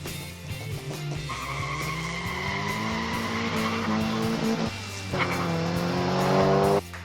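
Modified 1/64 diecast muscle cars, including a classic Matchbox Cougar, racing on a track, heard as a loud continuous car-engine roar with rising and falling pitch and tire-squeal effects, no talking.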